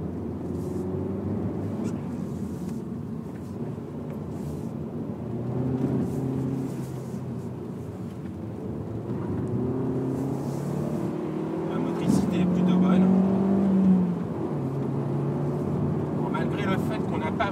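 Alfa Romeo MiTo QV with the 1.4 MultiAir 170 hp engine driving, a steady low engine drone and road rumble that swells briefly mid-way, with someone talking over it throughout.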